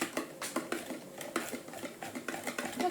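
A whisk beats pancake batter in a bowl as flour is added bit by bit, producing quick scraping clinks against the bowl in an uneven, steady rhythm, close and fairly quiet with no talk.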